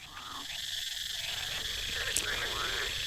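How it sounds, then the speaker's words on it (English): Frogs croak in a swamp, forming a dense, steady chorus of calls beneath a continuous hiss of night ambience. "The frogs in the swamp croak louder"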